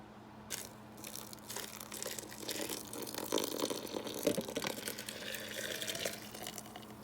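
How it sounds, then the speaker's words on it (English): Milk is poured over crumbled wheat bread in a bowl for an old-style pudding, a soft liquid splash and gurgle with faint crunching, close and fairly quiet, with no talking. "then I will pour the milk over it."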